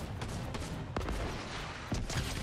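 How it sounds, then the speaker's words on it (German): Gunfire in a Fortnite match, a dense spread of sharp shots and bursts running through the whole stretch, loud and close, with a few stronger cracks standing out near the middle and end. "Achtung, Schüsse von hinten."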